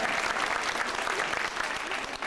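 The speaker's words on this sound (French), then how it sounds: "j'aimerais qu'on applaudisse le capitaine Gillet" Sustained applause from an audience in Dole as Captain Gillet steps forward during a ceremony, a dense steady clapping that fills the room without a break.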